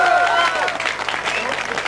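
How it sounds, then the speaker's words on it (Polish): A crowd at a volunteer fire brigade competition results ceremony claps in a brief, fairly loud burst of applause, with some voices mixed in around it. "Brawa!"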